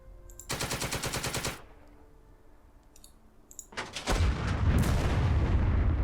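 Tank gun firing in the Second Front war video game, a rapid rattling burst followed by quiet clicks, then a louder sustained blast and rumble.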